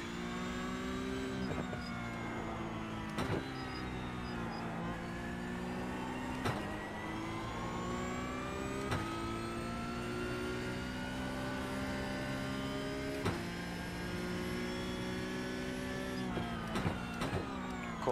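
Porsche 992 Cup race car on track at Barber, running on cold tires: a loud, sustained engine howl with steady rising tones, broken by sharp clicks and brief dips at shifts, with no voices.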